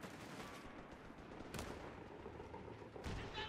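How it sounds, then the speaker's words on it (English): Gunfire crackles through a Company of Heroes 3 battle during the Italian campaign defence of the Salerno beachhead, with repeated shots and bursts layered over a dense combat din and two sharper, louder reports standing out. "We're taking fire!"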